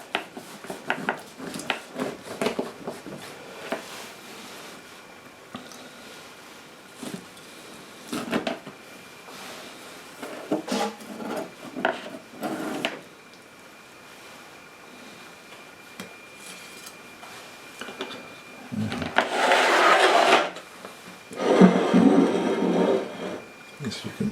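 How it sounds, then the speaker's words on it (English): A knife cuts a slice of cranberry orange bundt cake, making scattered soft taps and scrapes against a plate, then a few louder, longer scraping strokes near the end. Someone talks intermittently in between. "Let's see if I can cut a slice here."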